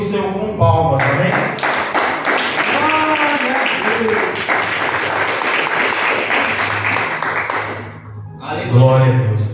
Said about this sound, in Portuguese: Os irmãos podem se assentar e glorificar o Senhor com palmas.